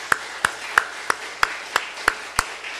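Eight evenly spaced, sharp claps sound in a steady rhythm in a church, crisp and fairly close, more like one clapper or a small unison beat than broad congregational applause.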